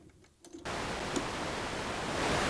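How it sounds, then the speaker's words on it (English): Steady white noise hiss from a synthesizer module switches on abruptly after a brief quiet moment and holds at a constant level, slightly brightening toward the end. "listen to the white noise for a second"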